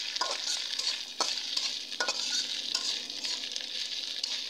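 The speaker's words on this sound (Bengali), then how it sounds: "3-4 মিনিট ভেজে নেব" Chopped garlic, onion and green chilies with black cumin fry in hot oil, giving a steady close sizzle with repeated scraping stirs of a spatula for about four and a half seconds, no voices.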